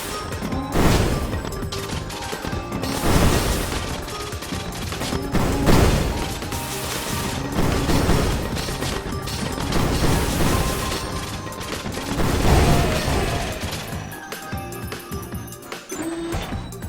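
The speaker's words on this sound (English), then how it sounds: "This one fires grenade rockets, it seems." A drone in the game Risk of Rain fires grenade rockets: repeated crashing blasts and bursts of explosive impacts, loud and dense, recurring every couple of seconds over busy game noise.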